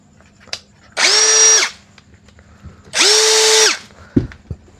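A cordless drill spins up twice at low speed, each steady whirring burst lasting under a second, separated by a pause and followed by a few clicks and handling knocks; no one speaks.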